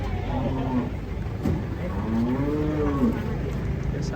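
An agitated cow being unloaded from a swaying truck moos repeatedly in long, drawn-out calls, loud and close, while people talk and vehicle noise runs underneath.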